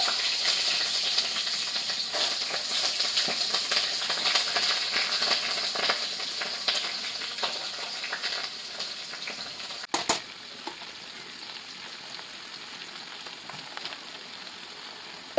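Vegetables and slit green chillies fry in a pan with a steady, close sizzle and hiss. A brief clatter interrupts it, then the frying carries on a little quieter, with no talking.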